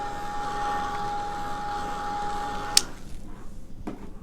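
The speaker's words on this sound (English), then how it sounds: "I'm going to get the heat tool out again" A heat tool drying watercolor paint hums and blows with a steady whine for under three seconds, then clicks off, leaving a quieter room with a couple of small knocks.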